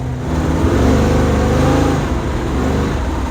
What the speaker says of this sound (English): feathering the throttle and second gear